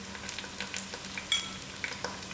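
Cinnamon stick, thyme and ginger garlic fry with onions for a mutton curry, a soft steady sizzle with faint scattered crackles and a light stir or clink, close and quiet.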